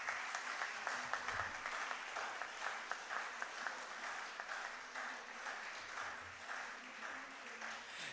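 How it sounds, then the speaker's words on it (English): An audience at a medical conference at Dr. S. S. Tantia Medical College claps in a sustained round of applause, a fairly soft, steady patter of many hands lasting the whole stretch, with no talking over it. "can we have a huge round of applause?"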